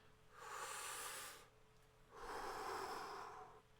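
Two long, deep breaths, one after the other, each slow and airy, heard close up with a short quiet gap between them.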